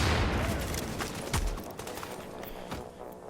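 Gunfire in a shooting video game: a dense burst of loud, sharp shots at the start, then scattered single cracks trailing off, with no speech over it.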